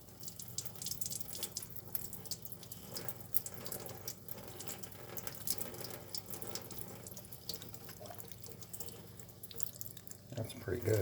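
Faucet water runs steadily into a sink while a small blue bird with a broken leg is rinsed of soap, a faint continuous splashing stream with soft drips.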